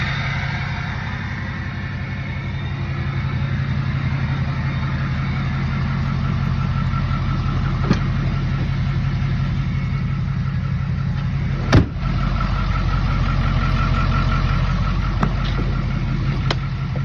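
A diesel truck, just taken in on trade, idles steadily with a deep, even rumble and a faint rattle, close and unbroken, with a couple of brief knocks partway through.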